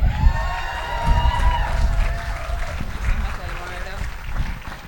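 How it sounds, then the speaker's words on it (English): Outdoor crowd at an anti-Chevron rally in Richmond applauding and cheering for mayor Eduardo Martinez, scattered clapping and whoops mixed with someone talking over the noise. "Can we get another big round of applause for our dope mayor, Eduardo Martinez?"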